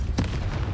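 A Depulso spell is cast in the video game Hogwarts Legacy: a single sharp, brief burst near the start that decays quickly into a faint rumble.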